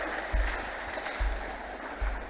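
Brief applause from the audience at a Teachers' Day and PGRI anniversary ceremony in Nagekeo, a soft diffuse patter of clapping with a few thumps.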